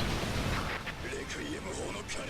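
Artillery cannon strike in the Earth Defense Force 5 video game, a dense sustained rumble of distant blasts and debris filling the clip at steady loudness, with a few sharper cracks rising above the roar.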